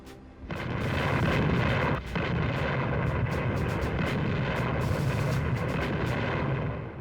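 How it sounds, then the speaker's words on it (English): Dense, continuous heavy British naval gunfire at sea in darkness, with rumbling booms and sharp cracks, loud and sustained throughout, briefly dipping before resuming. "British gunfire sank the pride of their fleet"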